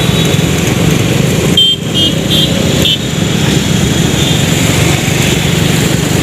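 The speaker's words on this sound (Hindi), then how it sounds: "ट्रैफिक हो गया फिर।" Busy city street traffic in Raipur's Gol Bazaar area near Ghadi Chowk, with loud, close engine drone from cars and motorbikes rumbling continuously, briefly dipping once before resuming.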